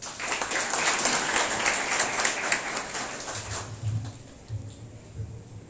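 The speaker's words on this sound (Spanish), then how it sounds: "Con un aplauso." Applause at a national science olympiad ceremony for a school district, a moderate room of steady clapping that thins out after about three seconds, with low rumbling handling noise beneath.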